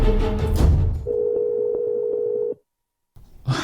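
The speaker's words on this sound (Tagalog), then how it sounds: "Salamat kay nibagting na ang cellphone ni Aida." A cellphone rings with a steady, sustained electronic tone lasting about a second and a half, following a noisy opening, then cuts off into silence before other sounds return.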